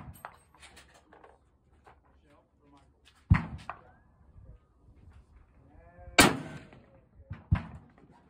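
A gunshot is fired past a Garmin Xero C1 Pro chronograph outdoors: two sharp, loud cracks several seconds apart, with people talking quietly between them.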